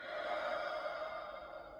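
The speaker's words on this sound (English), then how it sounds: "breathing, big breaths." A big breath is exhaled out through the mouth in a long, steady, airy whoosh that stays fairly loud and close throughout.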